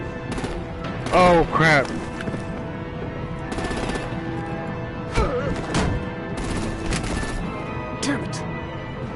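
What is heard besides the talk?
gunfire and artillery in a video game battle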